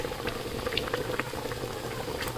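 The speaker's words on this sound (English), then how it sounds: "Ribs are cooking down." Pork ribs simmering in a pot of boiling water, a steady close bubbling and popping with small irregular blips, constant throughout with no voices.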